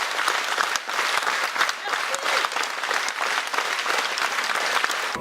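Audience applause at a live reading in a theatre-like setting, a dense sustained wash of many hands clapping throughout, with no voice standing out.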